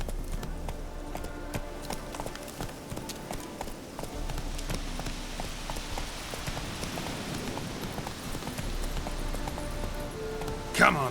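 Roach, the horse in The Witcher 3, gallops with a steady rhythmic clip-clop of hooves under constant game ambience and music, with a brief louder thump near the end.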